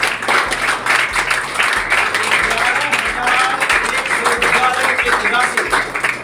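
Audience applause at a school award ceremony honouring matriculation students, steady sustained clapping over several seconds with a low rhythmic beat underneath.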